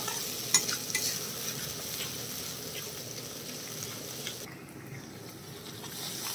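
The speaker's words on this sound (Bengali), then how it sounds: "এই যে ফেটানো মশলাটা গ্যাসটা কমিয়ে এবার এটাকে আমি আস্তে আস্তে একটু নেড়ে নেব।" A beaten yogurt spice paste is stirred slowly in a pan over lowered heat, a soft scraping and light sizzle, fairly quiet and steady.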